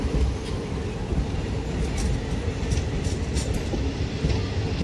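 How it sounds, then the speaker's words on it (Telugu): Kakatiya Express train pulling out near Moula Ali railway station, a steady loud rumble of rolling wagons with faint clicking and light wheel squeal throughout, no voices. "కాకతీయ ఎక్స్ప్రెస్ అయితే బయలుదేరుతుంది."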